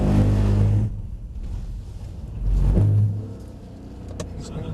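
Car engine roars in two loud surges while the car spins through a 360-degree drift, with quieter tyre and engine noise between the bursts.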